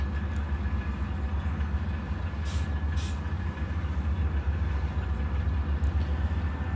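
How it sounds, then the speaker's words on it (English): A train pulling out of a rail yard makes a continuous low rumble and mechanical drone, steady and somewhat distant, with a few faint higher squeaks over the top. "the train I'm hearing is starting up out of the yard, going south"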